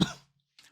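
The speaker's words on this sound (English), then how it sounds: "I'm drinking some iced tea to clear my throat" A single short, close throat clearing comes in one rough burst that fades within a quarter second, followed by a small, faint second rasp after a brief silence.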